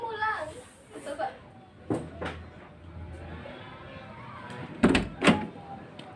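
A door closing with a couple of sharp thumps and a rattle, one early and two louder ones near the end, amid children's chatter and voices in a room.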